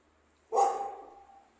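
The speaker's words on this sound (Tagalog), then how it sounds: "Yung aso ng ngaw-ngaw, o." A single sharp dog bark rings out on a street in downtown Beirut, fairly close, then trails off into quiet street ambience.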